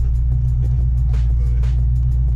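The engine of a Saleen SSC Fox Body Mustang idles in a steady, deep, close rumble, running smoothly with no revving.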